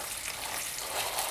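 Flounder fries in a pan with a steady close sizzle and crackle of hot oil that fills the whole moment without pause.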